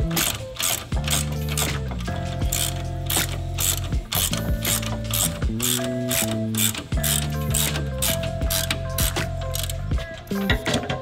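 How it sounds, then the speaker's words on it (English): A ratchet tightening the top nut on a Subaru Crosstrek lift kit install, giving rapid, close, rhythmic clicking in repeated bursts with short pauses between strokes. "Tighten down the top nut."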